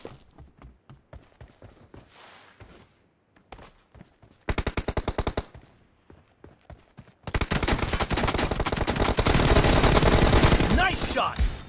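Gunfire in a mobile team deathmatch shooter game: scattered single shots and footsteps give way to rapid machine-gun bursts, then a long, loud sustained volley of automatic fire.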